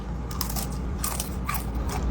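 Someone bites and chews crunchy baked Inner Mongolian beef chips with fatty edges, making close crackling crunches over a steady low background hum.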